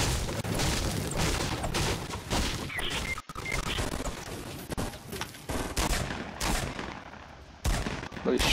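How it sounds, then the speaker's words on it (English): Rapid gunfire in Fortnite, repeated bursts and single shots crackling close and loud, broken by short pauses, with a few heavier booms mixed in. "I hear shots already"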